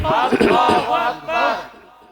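A crowd at a Bangladeshi Islamic sermon gathering chanting Allahu Akbar in loud unison in response to the Nara-e-Takbir call, a few strong rising shouts that fade out at the end.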